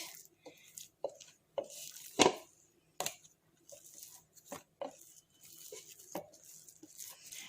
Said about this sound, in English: we'll just punch it in and we will just knead it for 1 minute